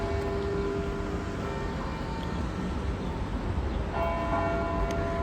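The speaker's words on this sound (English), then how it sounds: "It rang the bell at 3:30 as well." A church bell tolls in downtown Toronto, its sustained ringing tone heard at a distance over steady city traffic rumble, with a fresh strike near the end.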